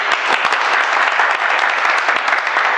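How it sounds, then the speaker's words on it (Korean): A room full of people applauds for a bench press guest, a loud, dense, steady burst of clapping from start to finish. "박수!"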